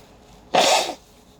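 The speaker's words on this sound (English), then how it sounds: "let me blow my nose" A person with allergies gives a single short, forceful nose blow close to the microphone, lasting under half a second against a quiet background.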